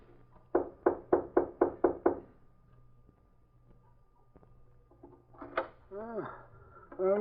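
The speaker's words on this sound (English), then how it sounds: "I'll knock." Seven quick, evenly spaced knocks on a ship's cabin door, crisp and close, followed by a pause and then an excited voice speaking.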